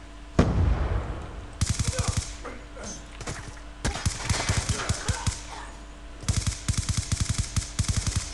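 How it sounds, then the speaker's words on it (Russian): Suppressed gunfire in the video game Black Ops 2: several rapid bursts of muffled, clicky shots in quick rhythmic strings, close and fairly loud, with pauses between bursts and light game ambience underneath. "Мне нравится звук глушака"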